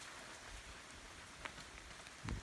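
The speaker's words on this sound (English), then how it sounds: "it's a bit of a rainy day out" Light drizzle falls outside on a cloudy day near a garden shed, a faint, steady hiss of rain with an occasional soft drip.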